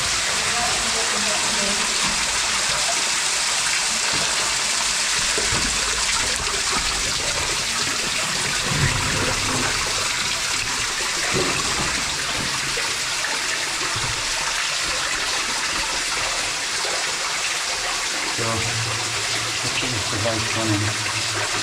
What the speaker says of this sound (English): Look at the water coming down the load.